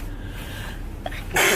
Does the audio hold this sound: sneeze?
yes